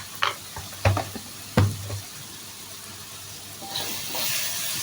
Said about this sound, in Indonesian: Saya aduk rata.